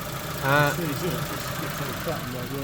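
A Proton Saga 1.5 engine idles after its idle control valve was cleaned: a low, steady mechanical hum heard close and fairly quiet, with a brief voice speaking over it early on.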